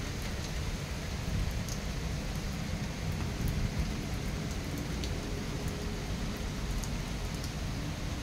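Heavy monsoon rain pours steadily at New Delhi Airport, a dense, even wash of broadband hiss that stays constant and fairly close throughout, with faint scattered drop impacts and no talking.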